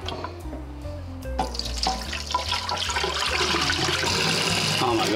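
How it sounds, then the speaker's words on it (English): Hot water runs and splashes over an antique Australian-made billy can as it is rinsed and lightly rubbed to lift red rust, a continuous loud gush with clattering metal knocks. "Just going to use hot water and lightly rub it, and hopefully that'll lift off a lot of the red rust"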